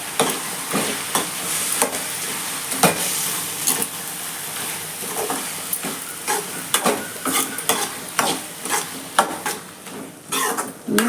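Prawns sauté in a pan, sizzling steadily while a spatula scrapes and stirs in irregular strokes, close and moderately loud, the scraping growing more pronounced and rhythmic toward the end.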